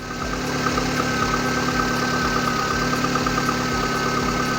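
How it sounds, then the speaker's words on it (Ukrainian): VAZ 1118 with a 1.6 engine idling after a full cylinder head rebuild, a steady, even mechanical hum with faint rhythmic ticking, close and continuous with no talk. "Моторчик шепче."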